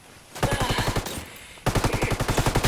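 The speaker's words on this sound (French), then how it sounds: "Putain, on se fait tirer dessus!" Rapid automatic gunfire in Ghost Recon Wildlands, two close, loud bursts of evenly spaced shots, the second louder after a brief pause.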